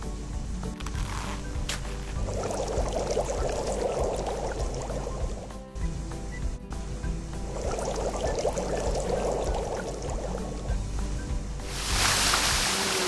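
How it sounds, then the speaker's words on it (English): Water filling a fountain in a kids' video game, a rushing, pouring liquid sound that swells twice over a constant bed of game music, ending in a louder splashy gush. "Let's fill it with water and turn the fountain on."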